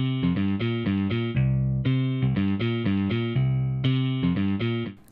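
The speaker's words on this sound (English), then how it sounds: "we just loaded up that rock bass, progressive rock bass part" A progressive rock bass Apple loop playing back in Logic Pro, a loud, distorted bass riff with a steady repeating rhythm of short notes and held tones, alone without voices.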